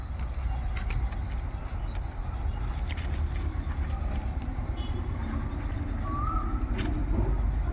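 Soft bird calls and cooing from birds near their nest with chicks, over a constant low rumble of background noise, with a few faint chirps scattered through.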